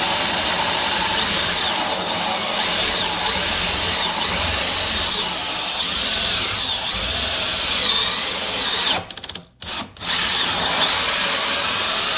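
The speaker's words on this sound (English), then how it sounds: "So I drill most of the way through and then I finish from the other side." A power drill with a hole saw grinds steadily through a wooden door, loud and close, with a brief pause near the end before cutting resumes.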